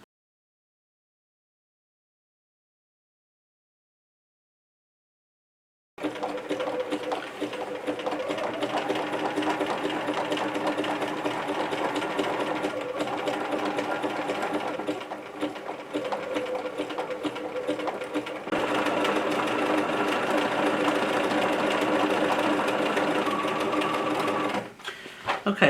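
After several seconds of silence, a sewing machine stitches on a dark denim tote in one long continuous run, a close, steady mechanical whir with a slight shift in pace partway through.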